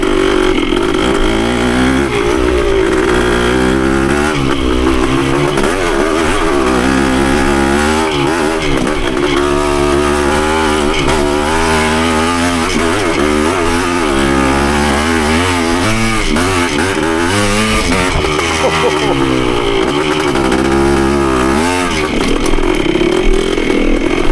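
Yamaha CT3 175 motorcycle ridden off-road through leaf-covered woods, its engine revving loud and close throughout with repeated rising and falling throttle surges.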